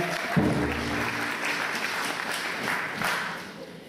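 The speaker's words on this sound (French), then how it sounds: "Nous applaudissons très fort pour notre Dieu parce qu'il est venu." A church congregation at a Kimbanguist service applauds loudly, a thick continuous wash of many hands clapping close by, with a brief low voice near the start.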